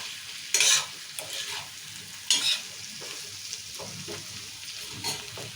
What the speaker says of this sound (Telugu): ఒకసారి ఇక మంచిగా కలుపుకుందాము